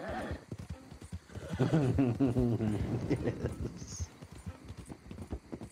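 A horse in a video game clip-clops and lets out a loud whinny, hoofbeats ticking steadily beneath the neigh, with a brief spoken word near the end.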